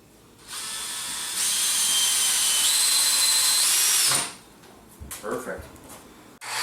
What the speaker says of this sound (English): You can screw into it as well.